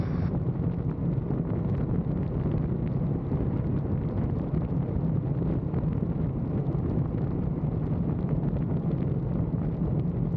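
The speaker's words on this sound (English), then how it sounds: "The wind is fun." Loud, steady wind roar buffets the microphone while a rider tucks down on a motorcycle at freeway speed, a constant dense rush with no break for the full stretch.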